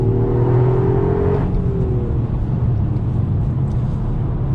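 A Toyota GR Yaris petrol engine droning loudly and steadily, with a rising whine that fades after a moment, leaving a constant rumbling hum from inside the car.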